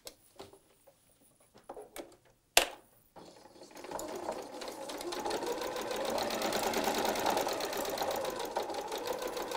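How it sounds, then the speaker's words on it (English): A sewing machine stitches quilt block fabric after a few scattered clicks and a sharp knock, settling into a steady, fast mechanical whir that runs close and even to the end. "let's go to the sewing machine"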